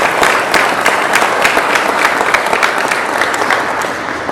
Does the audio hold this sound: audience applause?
yes